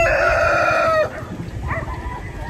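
Dekalb White laying hens are heard, with one loud, close drawn-out call that ends abruptly, then softer clucking and squawks from the flock.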